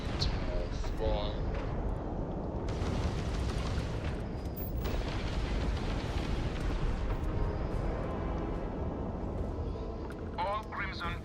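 Spaceships blowing apart in a Starfield space battle against Crimson Fleet ships, a dense, continuous roar of explosions and booms filling the whole stretch at steady loudness, with a voice speaking over the blasts.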